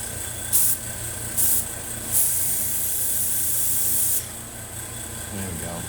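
Paint spray gun hissing in four bursts while coating a Friday the 13th Jason Voorhees hockey mask cosplay prop, the last burst held longest, over a low steady hum.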